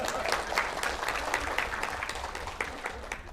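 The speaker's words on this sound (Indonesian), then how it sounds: "tepuk tangan untuk Ayah." An audience applauds Ayah Rifai at a gathering, giving dense, fairly loud clapping that carries on steadily for a few seconds, with no voices standing out above it.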